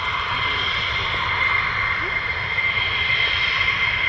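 A US Air Force F-15 fighter jet of the 492nd Fighter Squadron at RAF Lakenheath, a loud, steady whining engine roar with a sustained high tone, heard without speech as the aircraft powers up for takeoff.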